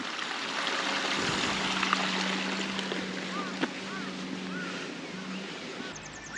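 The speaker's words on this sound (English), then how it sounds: "There's a babbling brook." A babbling brook in the mountains of Kyushu gives a continuous broadband rush of flowing water, with wind and faint bird chirps over it and no talk.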